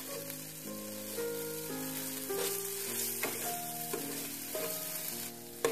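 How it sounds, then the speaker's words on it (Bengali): Shahi paneer paste sizzling steadily in a frying pan as it is stirred, a continuous close fry with soft scraping, while music plays throughout. "যে পেস্টটা আমরা বানিয়েছি সেটা ফ্রাইং প্যানের তলায় ঝরে যাওয়ার সম্ভাবনা থাকে, তাই এটাকে ভালোভাবে নেড়ে নিচ্ছি আমরা।"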